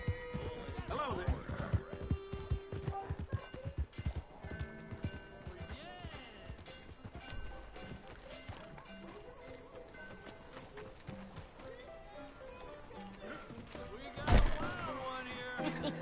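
Horse hooves clip-clopping in Red Dead Redemption 2, a run of rhythmic hoofbeats that slows and fades, with a sharp thump near the end, under game dialogue and voices.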